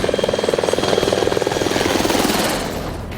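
Black Hawk helicopter rotor beating loud and close in a rapid, steady chop over a broad engine roar, gradually easing toward the end.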